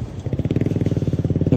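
A motorcycle engine putters close by with a fast, even, pulsing rhythm, loud and steady throughout the short stretch of riding.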